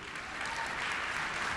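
An audience applauding during a talk-show conversation, a dense steady patter of clapping from a crowd that holds at an even level for the whole short stretch.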